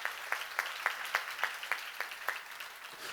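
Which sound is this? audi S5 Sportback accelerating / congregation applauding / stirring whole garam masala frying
congregation applauding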